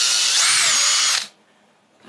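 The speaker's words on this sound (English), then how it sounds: "Just drill a hole here." Power drill boring a hole through the wall of a plastic cooler: one loud, high whine lasting about a second with a slight pitch rise, then cutting off abruptly into near silence.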